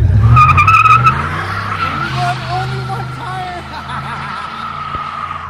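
A car with an open differential spins one wheel under power, its tire squealing and skidding loudly over a revving engine that settles into a steady roar, with faint voices in the background.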